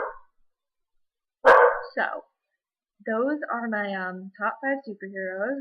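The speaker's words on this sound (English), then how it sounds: "Excuse the dog barking in the background." A dog barks indoors in a home, one sharp loud bark followed by a shorter one, then a person speaks close by.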